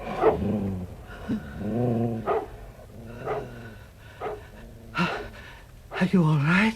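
Dog growling in a tense radio-drama scene, low rumbling snarls and gasping breaths mixed with agitated voices that dominate most of the stretch.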